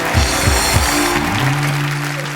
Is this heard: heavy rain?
no